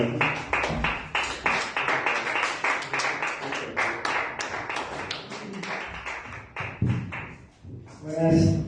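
Steady rhythmic clapping from a church congregation at a Sunday evening service, continuous and fairly close, with a voice rising briefly near the end.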